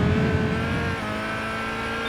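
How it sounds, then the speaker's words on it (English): A race car engine in Gran Turismo 5 shifts from a loud rising drone into sagging revs after going through runoff, its pitch falling and holding lower as the speed bleeds away, with no one speaking. "you heard the revs momentarily struggling a bit, going down"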